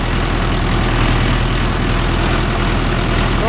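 A tractor engine fitted with a rotavator runs steadily and loudly, a constant low droning rumble that holds without change from start to finish, close by with no voices.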